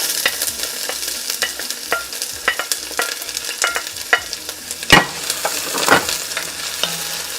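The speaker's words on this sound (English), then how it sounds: "We're going to add some oil, just a little bit, not too much. We're going to start with half an onion." Half an onion frying in a little oil in a pan over medium-high heat, with steady sizzling broken by repeated stirring scrapes and clicks of a utensil, close up with no talk.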